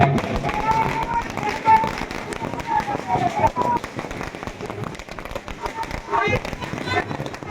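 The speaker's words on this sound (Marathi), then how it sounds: "आता फटाक्याची पूर्ण माळ लावतायत" Rapid crackling pops from a full string of firecrackers go off amid a busy crowd at a religious palanquin procession in Pandharpur, with people talking and shouting throughout.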